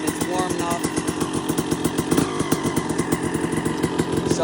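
A 2002 Suzuki RM250 two-stroke dirt bike runs warm without choke, a close, steady buzzing engine with rapid pulsing firing beats throughout.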